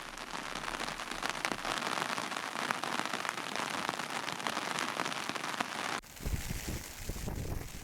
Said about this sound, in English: The rain was very heavy